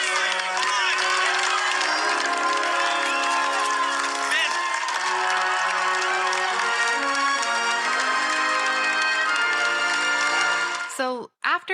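A large adoring crowd cheers, whoops and applauds continuously at high volume, a dense, sustained roar with music-like tonal layers underneath, cutting off abruptly at the end.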